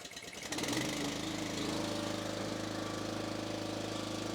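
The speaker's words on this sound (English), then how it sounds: "Once it's running, you toggle the switch back to the right." Engine of an Equipter RB4000 catching after a choked start, settling quickly into a steady, loud, rhythmic running drone close by that continues without a break.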